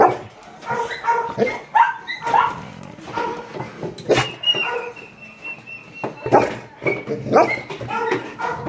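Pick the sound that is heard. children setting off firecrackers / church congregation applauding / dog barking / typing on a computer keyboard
dog barking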